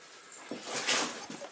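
A dog whimpers softly in a damp, dripping cave, giving a few short, faint whines and snuffles close by with no talk over them.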